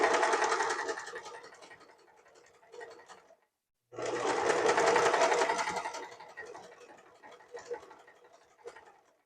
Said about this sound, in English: I'm going to sew all the way down the edge to the corner of the fabric